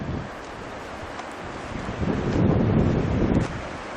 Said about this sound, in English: that wind is blowing pretty hard